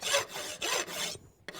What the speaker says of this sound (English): I don't mind using my hot rasp to start roughing something off